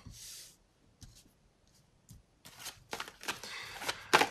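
Tarot cards shuffled during a reading, heard as several short papery riffling bursts with pauses between them, growing busier and louder toward the end, with no talking.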